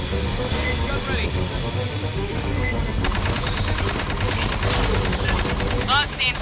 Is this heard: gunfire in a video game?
yes